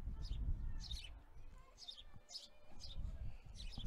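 Birds chirp and tweet repeatedly outdoors at a softball game, in bright short bursts roughly every half second over steady low crowd and field rumble.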